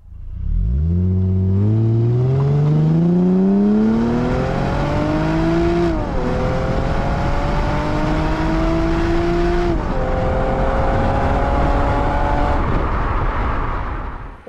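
A loud, close 2020 Mercedes-Benz SLC 200 engine revs up through rising harmonics, drops briefly, then climbs again in repeated sustained pulls, the exhaust roaring steadily throughout.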